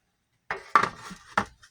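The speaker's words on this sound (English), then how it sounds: "Take our baking pan." A metal baking pan is handled in a home kitchen while squash is being prepared, giving three short clanking knocks spaced apart, close and fairly quiet with nothing else around.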